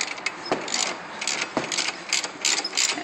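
A 19mm wrench turning a right-hand-thread clutch nut on a Kawasaki, giving repeated ratcheting clicks in bursts with a couple of sharper knocks, close and fairly loud, with no talking.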